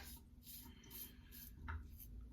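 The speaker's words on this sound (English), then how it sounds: "you could really hear how much the blade is hitting the hairs" Quiet, raspy scraping strokes repeat in a steady rhythm as a Maggard V3A safety razor blade drags against the grain through stubble close to the ear.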